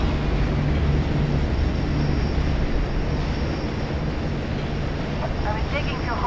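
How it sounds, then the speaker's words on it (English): A tram travelling through a confined tunnel in the video game F.E.A.R. 2 gives a loud, steady mechanical rumble that fills the whole stretch without a break. "Warning. Tram entering confined space."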